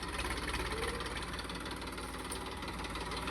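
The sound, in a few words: New Holland 3032 tractor engine in the field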